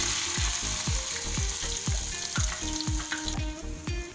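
Noodles and garlic frying in a pan give a steady loud sizzle, with a repeated rhythmic scraping of a utensil stirring about twice a second throughout.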